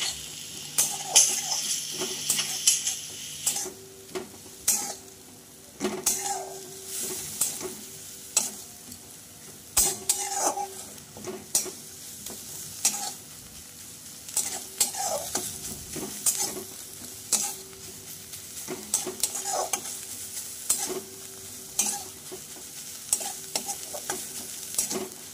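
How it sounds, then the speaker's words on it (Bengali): Drumstick leaf greens are stirred in a wok without oil, with a little water added, producing repeated spatula scrapes and knocks over a soft, steady sizzle. "তো পাটা ধোয়া জলটা দিয়ে আরও খানিকক্ষণ এটাকে নাড়িয়ে একটুখানি শুকনো শুকনো করে নেবো।"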